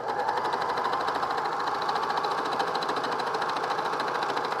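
A sewing machine stitches the sleeve of a men's fleece pullover, humming in a steady, fast mechanical whir with an even rapid pulse of the needle throughout.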